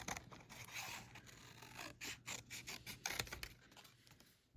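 Scissors cut out paper figures with a series of close, quiet snips and scraping rustles, irregular in rhythm and growing choppier toward the end.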